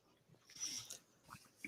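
A dog breathes and snuffles quietly nearby, with soft rustling movements and a brief whimpering huff, faint and intermittent indoors.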